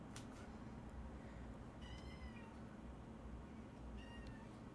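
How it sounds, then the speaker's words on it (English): A cat meows faintly a few times, short separate calls rising over a steady background hiss in a quiet indoor room. "Topo, I was trying to get that cat"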